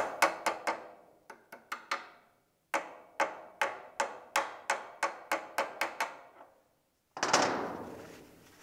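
Sharp metallic hammer taps in an uneven rhythm, about seventeen close strikes with short ringing decays, driving a key onto a mud motor crankshaft, followed by a scraping clatter.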